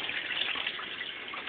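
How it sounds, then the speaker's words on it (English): An aquaponics barrel's auto siphon drains water in a steady, close, broadband rushing gush, heard alone with no talking. "The auto siphon will be kicking in a moment."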